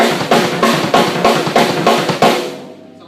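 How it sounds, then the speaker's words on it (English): Sextuplet drum fill on a kit, moving a pattern around the toms while the left hand stays on the snare: six loud, evenly spaced accented bursts of rapid strokes that end in a ringing decay, with no voices. "Again, you can start moving this pattern around the toms,"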